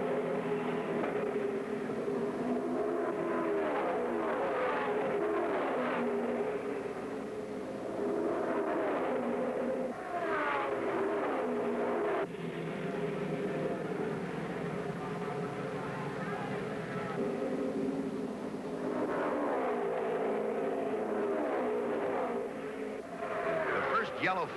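IndyCar race cars of the 1974 USAC Phoenix 150 roar continuously around the track in a dense, sustained engine drone that swells as the cars pass, heard under an announcer's running commentary.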